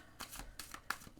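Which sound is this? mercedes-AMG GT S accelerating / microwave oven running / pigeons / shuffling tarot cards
shuffling tarot cards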